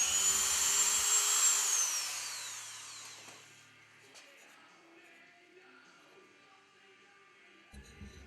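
High-pitched abrasive rotary bit grinding and smoothing a cast metal Warhammer 40k Nova Marine chapter emblem, loud and steady at first, then easing off into a quieter, lighter whir with occasional scraping.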